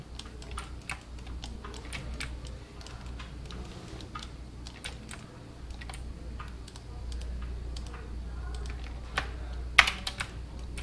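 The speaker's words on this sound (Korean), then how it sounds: "Shift R을 눌러서 끊어주고" Keystrokes tapping on a computer keyboard while working in 3ds Max 2023, with scattered clicks and quick key presses in short irregular bursts, close and fairly soft over a low steady hum, with no talking.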